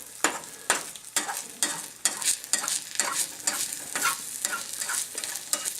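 Food fries loudly in a pan while a utensil stirs and scrapes underneath it in repeated rhythmic strokes over a constant crackling sizzle.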